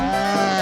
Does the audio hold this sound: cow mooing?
yes